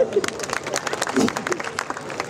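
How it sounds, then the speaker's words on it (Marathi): An audience gives a short burst of applause at a live stage show of dance, drama and music, with crowd noise mixed in. "नवीनसाठी जरा जोरदार टाळ्या"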